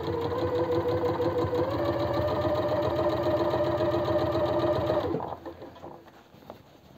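Sewing machine running steadily as it topstitches a seam on a women's vest, a continuous close mechanical whir that stops abruptly near the end, leaving faint room noise.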